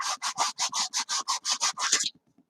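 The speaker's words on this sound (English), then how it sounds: "Sometimes you'll maneuver the sandpaper" Sandpaper rubbed back and forth over a 1/72-scale vacuform plastic model kit of a Hawker Siddeley Nimrod, about a dozen quick, regular scratchy strokes close to the mic, ending abruptly.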